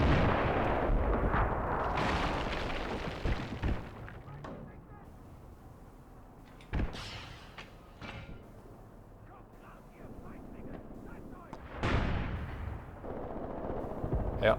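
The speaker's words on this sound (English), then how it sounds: "Yeah, the howitzer is shooting at that house." A howitzer fires on a house in the war game Graviteam Tactics: heavy booming blasts at irregular intervals, with low rumbling between shots and someone talking over the battle.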